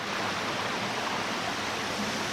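A creek on the Blue Ridge Parkway near Fallingwater Cascades rushes in a steady, broadband wash of flowing water, constant and fairly close with no voices.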